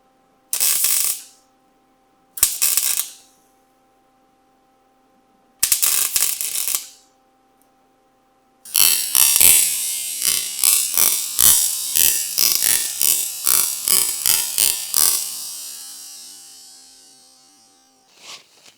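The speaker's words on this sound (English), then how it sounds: "Then we're going to go around and we're going to tack weld it in." Tack welding on a car rocker panel: three short separate bursts of buzzing arc, then a longer run of rapid crackling pulses in quick succession that ends after several seconds, fairly loud and close with no talking.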